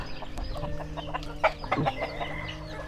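Native chickens cluck and murmur softly during feeding, a few sharper calls rising over a busy outdoor background of low chatter and rustling.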